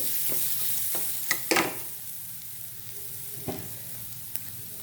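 Turmeric powder stirred into hot oil for a lemon-rice style seasoning, a soft sizzle under a few sharp spoon scrapes and taps against the pan, quiet and close, no voices.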